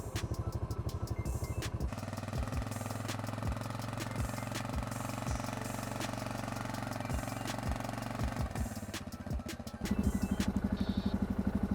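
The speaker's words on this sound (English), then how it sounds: "it seems it's time to test the winch." Loncin XWolf 700 ATV winch pulling in mud, a steady mechanical whine and engine drone running loud and close for several seconds, with clattering knocks and a louder surge near the end.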